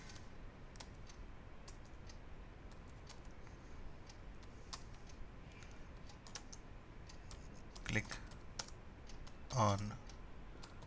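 Keystrokes on a computer keyboard while a username and password are entered on a login screen, arriving as scattered clicks with a louder burst of taps near the end. Quiet room tone sits beneath.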